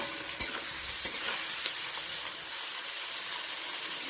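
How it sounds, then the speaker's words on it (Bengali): Onion frying in oil with whole spices, cumin and salt in a kadai, a loud continuous sizzle with a few sharp crackles and spoon taps early on, then a steady hiss, no talking. "এবারে পেঁয়াজটা একটু ভাজা হতে থাক"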